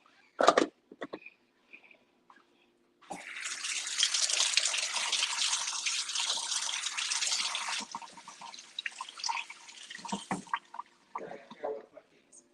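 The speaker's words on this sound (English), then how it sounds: "Let me wash my hands." Tap water runs into a sink for about five seconds as hands are washed beneath it, a steady close splashing hiss that then tapers off, with a few knocks and handling sounds before and after.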